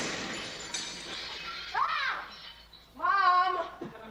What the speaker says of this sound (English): Mom, they dropped my aquarium